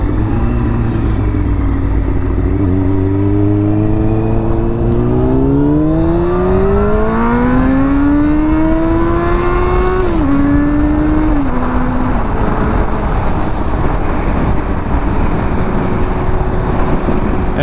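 A motorcycle accelerates hard away from a tailgating car, its engine note climbing through the gears with a brief dip at a shift, loud and close over steady wind and road roar, no talking.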